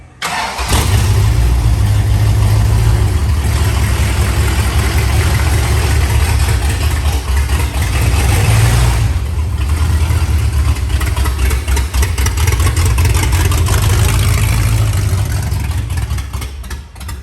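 A Ford Cortina engine running on its first start, a loud, steady rumbling idle close by that holds for the whole stretch with no talking.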